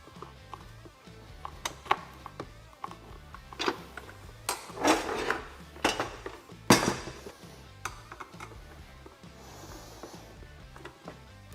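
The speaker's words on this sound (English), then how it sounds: "we can go through and fully tighten all the hardware, securing the heater to the bracket" Metal hardware being tightened to secure a SuperATV cab heater to its mounting bracket on a Polaris Ranger 1000, heard as close, scattered clicks, taps and brief scraping bursts with quiet pauses between, no talking.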